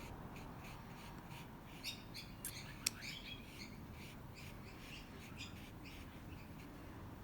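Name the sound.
birds singing outdoors in the background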